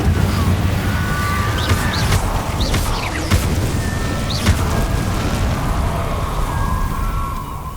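Incendio fire spell cast in the Hogwarts Legacy video game, a loud, dense roaring wash with several whooshing bursts and a deep boom, continuous throughout with no talking.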